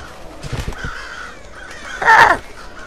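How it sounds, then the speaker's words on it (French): A crow caws in the stealth video game Thief, one loud harsh call standing alone after softer ambient bird chatter, with no talking. "Salut, petit oiseau!"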